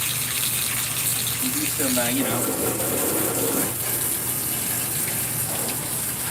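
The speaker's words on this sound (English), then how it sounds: "we need to get something to wipe this down. Because there's a lot of dirt in here and spider webs. We're just rinsing down the inside." Water gushes steadily while the inside of a dirty BBQ grill is rinsed outdoors, a continuous near spray with someone speaking briefly over it.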